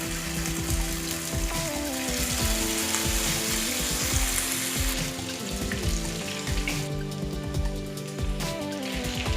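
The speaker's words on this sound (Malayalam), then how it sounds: "നമ്മുടെ ചിക്കൻ പീസ് ഓരോന്നായിട്ട് നമുക്ക് വറുത്തെടുക്കാം." Chicken pieces for Chicken 65 deep-fry in hot oil, a loud, continuous crackling sizzle close by, with scattered sharp pops and faint background music.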